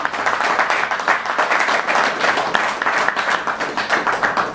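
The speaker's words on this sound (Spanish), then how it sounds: "le damos gracias y un aplauso" A room of classmates at a 1962 graduating class reunion applauds Galeano, a steady, close round of hand clapping that holds evenly throughout without any voices.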